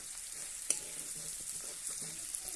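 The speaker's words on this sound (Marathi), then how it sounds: "आता हे चांगलं परतून घ्यायचं आहे" Leftover chapati mixture sautéed in oil in a pan gives a steady close sizzle, with scraping stirring strokes and a sharp spatula clink near the start; no one speaks.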